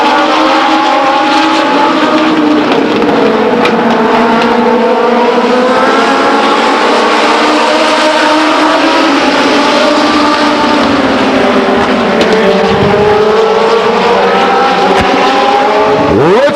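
Legends race cars circle Stockton 99 Speedway in a loud, continuous pack, several engines droning and shifting pitch together as they pass close by without letup.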